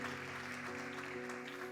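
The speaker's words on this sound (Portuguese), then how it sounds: "dê um aplauso ao Senhor com uma alegria" Church congregation applauding during a celebration service, a steady mass of clapping under sustained organ or keyboard chords, moderately loud and continuous.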